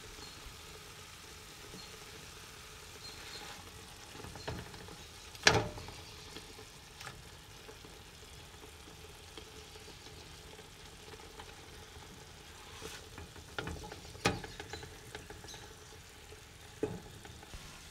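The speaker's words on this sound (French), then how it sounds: "déposez votre marmite sur le feu et laissez la viande dorée à feu doux" Lamb pieces browning in a pot over low heat for a tajine with artichokes and peas, giving a soft, steady sizzle with occasional louder clinks and stirring knocks near the 5 s and 14 s marks.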